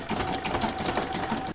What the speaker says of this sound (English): now I'm going to pop that back in my machine and stitch round number 17, which is a zigzag stitching all round the edge